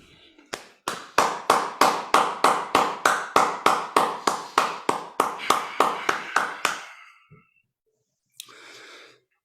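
Steady, evenly spaced hand claps ring out close and crisp at a talk, about twenty in a row before stopping, followed by a brief soft breath and a faint murmur.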